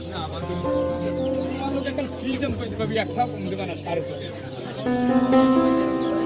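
Native desi chickens clucking at a busy poultry market, their calls steady and close under continuous bargaining voices and crowd chatter.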